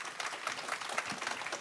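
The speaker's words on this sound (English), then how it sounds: "let's give a round of applause to our panelists" Audience at a health equity panel applauding the panelists, a dense burst of many hands clapping at moderate distance, steady and sustained for the whole short stretch.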